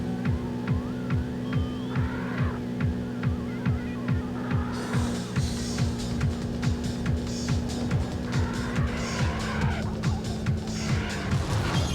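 A race car in Need for Speed skids under gas and handbrake together, a steady throbbing engine drone with repeated tire squeals sliding over it, loud and close throughout.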